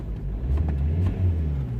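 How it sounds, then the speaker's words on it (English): A Vauxhall Corsa D 1.3 CDTi diesel, fitted with replacement injectors and showing a P0204 fault, idles with a steady low rumble, close and even, without revving. "I have the car here now idling"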